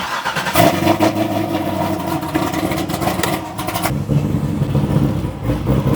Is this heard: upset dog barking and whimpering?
no